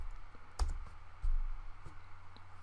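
Quick, light keystrokes on a computer keyboard tap out a short irregular run of clicks, close and fairly quiet, with a couple of heavier presses standing out and no talking.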